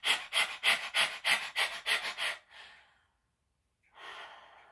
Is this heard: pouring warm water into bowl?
no